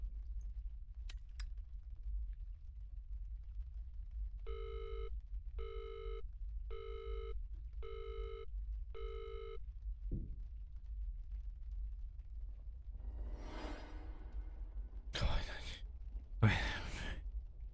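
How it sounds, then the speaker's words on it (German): In the horror video game Visage, a telephone rings five evenly spaced times in a quiet room, clear and moderately near. A thud and a few breathy noises follow, then two sharp loud bursts at the end. "Da ist ein Telefon."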